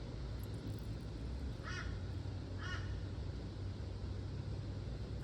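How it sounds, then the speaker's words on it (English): Two hoarse crow caws ring out a second apart in a garden, moderately distant, over a constant low rumble of background noise. "Just as I sat down to stitch, the crows came out."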